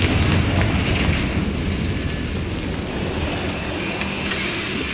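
A Confringo fire spell in Hogwarts Legacy lets out a loud, rumbling blast that starts heavy and slowly fades into a dense, low roar.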